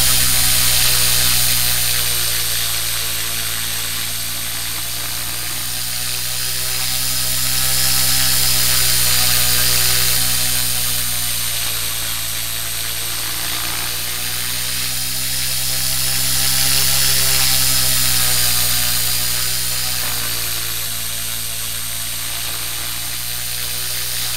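Helicopter motor straining under collective load, a steady high whine with a low drone beneath, swelling and easing in slow waves, close and loud with no talk.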